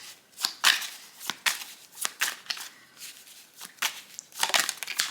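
Tarot cards being shuffled close by, a quick series of crisp riffling and slapping bursts in an uneven rhythm with short pauses between, no voices.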